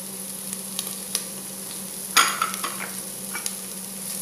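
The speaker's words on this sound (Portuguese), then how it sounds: "Vamos refogar para dourar a calabresa. Aí vamos colocar a cebola." Calabresa sausage and onion being sautéed in a pan, a soft steady sizzle with a few light spatula scrapes and one louder stirring clatter midway.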